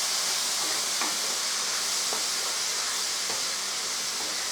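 Ground turkey, vegetables and minced garlic sauté in a pan with a continuous loud hiss of sizzling, broken by a few faint clicks of stirring.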